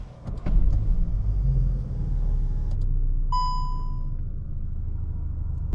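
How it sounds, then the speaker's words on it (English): A 2023 Volkswagen Golf R drives on the road, a steady low engine and road rumble heard from inside the cabin, with a brief clunk near the start and a short electronic chime partway through. "on the road with the 2023 Volkswagen Golf R"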